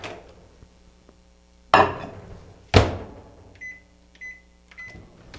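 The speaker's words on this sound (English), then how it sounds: "And I'm going to go back in my microwave for 30 more seconds" A kitchen microwave oven during pizza making gives a low steady hum, then two sharp thumps like the door being handled, followed by three short, evenly spaced beeps, close and fairly quiet.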